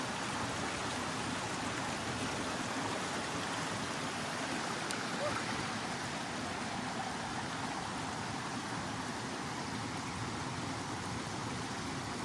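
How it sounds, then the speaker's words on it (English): Loud, steady rush of a stream at a trail water crossing in the Adirondacks, a broad continuous roar filling the whole clip without pause, close and unbroken. "That water is so loud."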